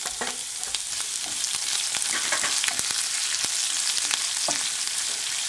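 Green chili, ginger and curry leaves sizzling and crackling in hot oil in a pan, a dense, steady hiss with frequent sharp pops, close and loud, no voices.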